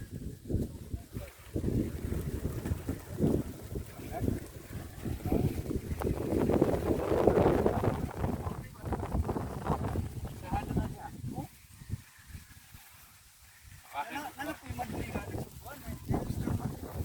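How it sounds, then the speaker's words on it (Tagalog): Strong wind gusts on a hiking trail in Barangay Adlaon, Cebu City, roar and buffet the microphone in uneven surges, with people talking throughout and a lull near the end. "Pagkalakas ng hangin."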